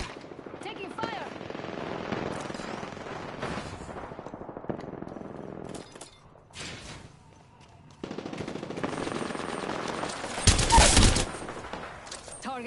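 Bursts of automatic gunfire and scattered shots in a video game firefight, mid-distance and intermittent across several seconds, with a louder sharp blast near the end and game voices over the action.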